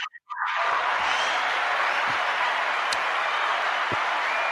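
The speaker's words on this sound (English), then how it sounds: "That's the applause. Yes. The audience." An audience breaks into sustained applause right after a brief pause, a dense, steady wash of clapping that continues to the end.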